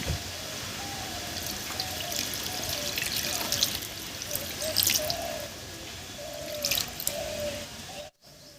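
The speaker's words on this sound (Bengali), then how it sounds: "সব কিছু খুব ভালো করে মেখে নিয়েছি এবার এর উপরে দেব জল" Water poured over a raw chicken cutlet mixture mixed with green chilli and mustard oil, a steady trickling and dripping stream running for several seconds with small splashes, close and moderately loud, ending abruptly.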